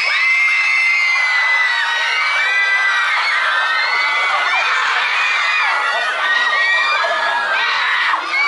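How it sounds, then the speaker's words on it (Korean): A packed audience at a K-pop showcase screams nonstop at close range: dense, high-pitched shrieking and cheering from a large crowd, loud and steady throughout, with no speech over it. "제가 지금부터 10초간 소리를 지를 수 있는 시간을 드릴 테니까요"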